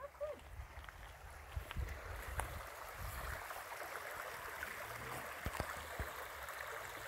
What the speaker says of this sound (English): after all this rain, it's a babbling brook